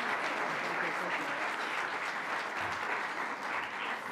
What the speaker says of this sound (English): So please, another round of applause for Kathy for coming to the Bronx for that.